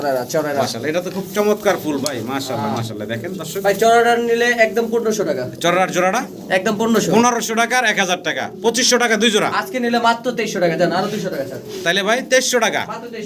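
Pigeons coo at a bird market stall where two pairs are on sale, their throaty calls mixing with steady, close talk from people haggling.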